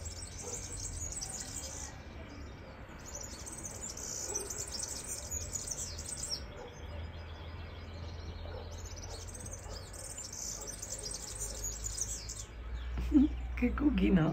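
Small birds chirping and singing near a country house, repeated high tweets in bursts over a steady low background hum, fairly clear and close.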